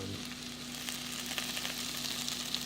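Sausage-style gravy with bacon cooks in a pan, giving off a quiet, steady sizzle with faint crackles and soft pops throughout, no talking.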